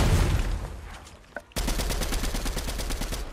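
Rapid automatic gunfire in Fortnite's Bodycam mode: a loud, dense burst of shots that cuts in after a quieter patch of scattered noise and a single sharp crack, then keeps hammering steadily to the end.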